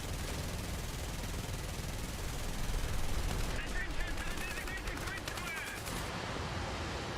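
An F-84G-26-RE fighter-bomber in War Thunder fires its machine guns in a sustained, rapid rattling burst set against a constant roar of engine and wind noise.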